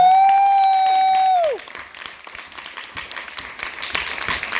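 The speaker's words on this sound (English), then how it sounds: "can we please give a round of applause?" A loud sustained tone sweeps downward and cuts off, then an audience at a pre-K graduation claps for the instructors, the clapping quieter and scattered before swelling slightly.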